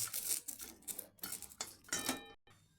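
A utensil stirs dry red chillies, green chillies and garlic cloves in a hot wok, giving repeated scraping clinks of metal on metal in uneven bursts with brief gaps, close and fairly quiet.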